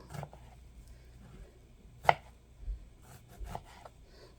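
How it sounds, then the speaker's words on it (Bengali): Vegetables being chopped finely for a vegetable khichuri, with a few sparse knife strikes on a board, one sharp and loud among softer, quieter taps, and no talking. "যেগুলা যে বাইর করলাম এগুলো কুচি কুচি করে কাটবো"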